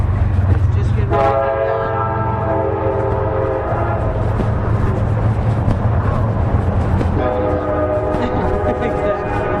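A train rolls by along a towpath, a loud steady rumble of wheels on rails, with two long horn blasts sounding over it, one early and one near the end.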